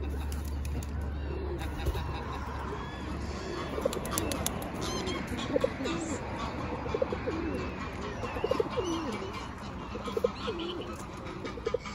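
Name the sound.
pigeon cooing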